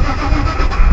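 A Ford Mustang GT500 engine at the Dunsfold Aerodrome racetrack catches with a short, close, deep rumbling burst that settles into a rough running note.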